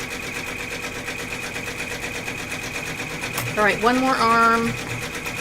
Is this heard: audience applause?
no